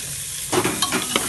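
Peas are stirred into spices in a frying pan: a quiet stretch gives way to a burst of sizzling and a few quick scraping strokes of a spoon.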